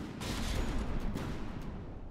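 Sustained dense barrage of cannon shells firing from a prototype primary cannon in From The Depths, a continuous loud rumbling roar with a few sharper reports standing out, no voices.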